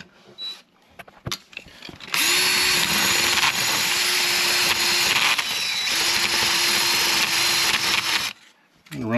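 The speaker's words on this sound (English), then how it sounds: "put my drill on high speed" A power drill whirs at high speed for about six seconds, loud and close, with a slight dip in pitch partway through and brief handling noises around it, clearing a seized weeping tile drain flap.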